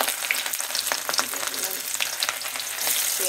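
Onions sizzle steadily in hot oil for a breakfast khichuri, a dense continuous crackle with a few sharper spits and stirring scrapes, close and fairly loud, with no voices.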